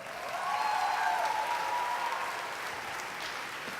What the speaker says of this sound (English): And while you're applauding, I'd ask that you continue to do that